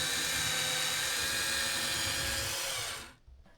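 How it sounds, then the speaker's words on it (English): A high-pitched power drill with a long 1/4 inch bit whines steadily and loudly boring a pilot hole through an RV roof, then cuts off abruptly near the end, leaving near silence. "I started drilling a pilot hole with this 1/4 inch drill."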